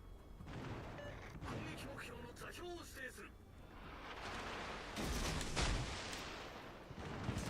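Ship guns firing in World of Warships: Legends, heavy booming salvos rumbling under excited overlapping talk, with the loudest blast landing late in the clip.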